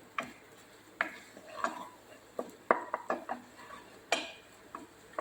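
Spices frying in oil in a pan are stirred with a utensil, giving sharp, irregular clicks and taps against the metal over a faint background, close and quiet, with no talking.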